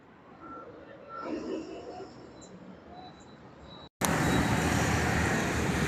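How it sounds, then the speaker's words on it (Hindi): Road traffic rumbles as a broad, steady wash picked up by a phone's built-in microphone, faint and muffled at first, then abruptly much louder and harsher for the last couple of seconds. "ट्रैफिक का शोर बहुत सुनाई दे रहा है।"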